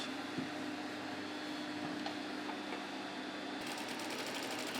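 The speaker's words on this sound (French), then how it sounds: "Donc, ça m'a l'air de coudre parfaitement." A sewing machine stitches an old pair of trousers with a steady, close mechanical whirr and rapid needle rhythm, holding an even pace throughout with no voices.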